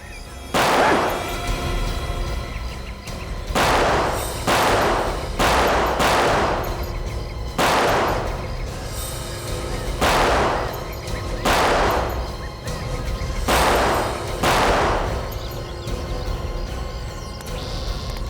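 Gunfire during a police confrontation in a crime drama, with about eight loud, sharp shots fired at irregular intervals over a steady noisy background.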